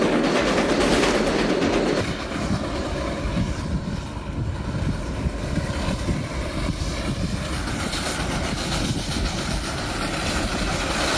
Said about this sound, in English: 2 hours of non-stop rotary snowplow action on the Cumbres and Toltec scenic.